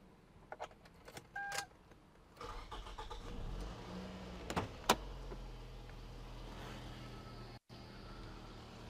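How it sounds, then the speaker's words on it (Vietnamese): A 2004 Toyota Camry with the 2.4G engine cranks and starts after some key jangling and clicks, then settles into a quiet, steady idle with the air conditioning running, heard close and without talk. "Động cơ đã nổ, điều hòa bật."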